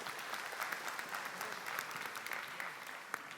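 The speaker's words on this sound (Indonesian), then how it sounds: "tepuk tangan buat Mas Yudi" A religious gathering's audience claps for a man back from umrah, dense sustained applause at a fairly low level with a few sharper individual claps standing out.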